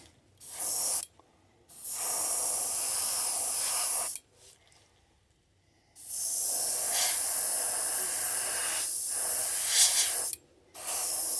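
An airbrush hisses in several long steady bursts, separated by short silent pauses, close and even, with no talking, spraying paint onto a crankbait fishing lure.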